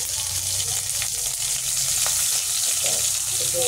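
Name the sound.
green chilies and cumin seeds sizzling in hot oil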